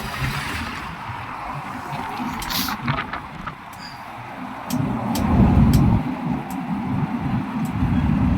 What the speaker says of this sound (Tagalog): Laki ng truck na to